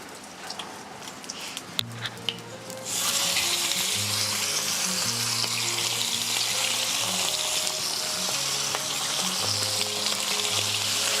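Loud, steady sizzling of meat frying on a hot saj pan, starting with a few clinks before a sudden burst of hissing that continues throughout.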